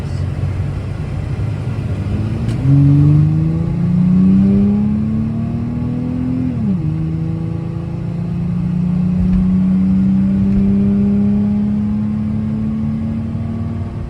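A loud, deep engine rumble from a third-generation Toyota 4Runner with a modified exhaust climbs in pitch through the gears as it accelerates, with a throaty exhaust drone heard from inside.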